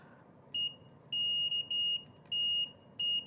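A multimeter's shrill continuity buzzer beeps in short and longer bursts, several times in an irregular rhythm, over a faint low background hiss.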